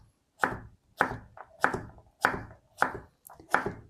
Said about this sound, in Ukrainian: Наріжу дрібним кубіком.